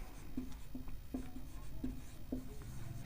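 Hand writing out a maths equation, pen or chalk tapping and scratching in short strokes at a quick, uneven rhythm, quiet and close with a low background hum.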